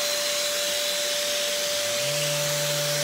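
A shop vac runs steadily during furniture distressing, a loud, constant whine and roar that shifts slightly in pitch near the end.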